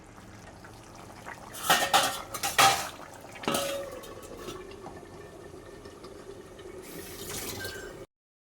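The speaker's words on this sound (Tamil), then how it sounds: "நடுவில் அப்பப்போ நம்ம குழம்ப கிளறி விட்டுக்கலாம்" Cauliflower curry stirred in a pot, heard as a few loud metallic scrapes and clinks of a spoon against the pot, then a softer steady simmer.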